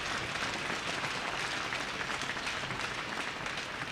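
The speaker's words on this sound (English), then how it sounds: "Let's give them a round of applause as well." Crowd in the stands at a varsity high school ice hockey game claps steadily in a reverberant rink, a continuous even wash of applause for a few seconds with no talk over it.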